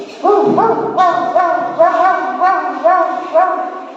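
A child imitates a dog, producing a rapid string of short, rhythmic bow-wow barks, loud and close.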